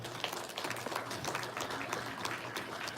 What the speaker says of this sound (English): Another big round of applause to Sharon.